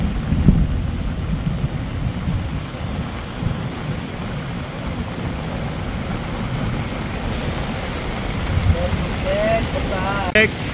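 Steady typhoon rain with low rumbling wind and storm noise, continuous throughout, with a brief whistle-like sound near the end.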